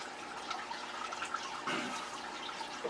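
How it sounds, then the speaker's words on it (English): Water pours and splashes into two 5-gallon buckets during a water change, a continuous close gushing and sloshing with small bursts and no talking. "I pour half in one and half in the other. I'm doing two 5-gallon buckets."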